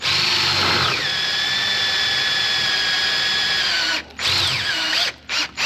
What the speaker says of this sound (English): I'm going to go ahead and try to drill it out with that now